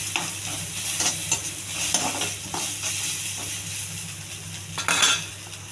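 Onions with salt and turmeric sautéing in a pan for millet upma, a soft continuous sizzle under rhythmic spoon stirs and occasional metallic clinks against the pan.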